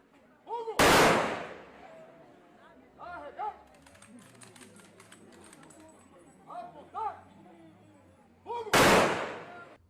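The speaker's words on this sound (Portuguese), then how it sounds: "Assim que chegaram, uma salva de tiros foi realizada em homenagem aos policiais" Two loud, sharp gun salute blasts about eight seconds apart echo outdoors at a military police funeral, with murmuring voices and crowd chatter in between.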